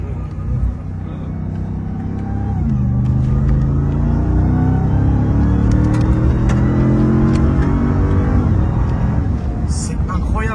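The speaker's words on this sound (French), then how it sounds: "pour entendre bien le compresseur qui siffle" A Dodge Ram TRX pickup accelerates hard from inside the cab, its engine rumble rising in pitch and holding loud and steady, with a supercharger whine above it. People talk over the engine.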